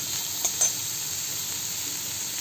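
Mushrooms frying in butter and garlic, a steady soft sizzle and hiss throughout with a couple of brief clicks near the start, close by with no talking.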